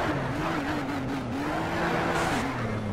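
Race car engines in Need for Speed Shift drone and whine steadily right alongside, a continuous close roar with shifting pitch and no talk over it.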